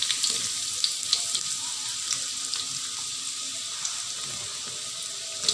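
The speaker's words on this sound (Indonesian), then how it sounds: "Ini kita tumis" Chopped onion sizzles in a spoonful of melted margarine in a hot pan, a steady close crackling hiss running throughout with no talk.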